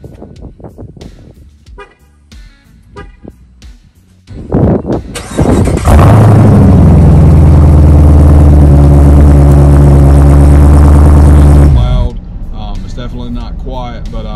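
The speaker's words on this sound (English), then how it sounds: "Next thing that I love is the sound of the exhaust. It's got that low guttural punch to the gut that I absolutely love." After a few seconds of talking, a 2021 Dodge Durango SRT Hellcat fires up its engine and exhaust with a loud, deep, guttural roar. The roar holds steady for several seconds, then drops back to a quieter rumble.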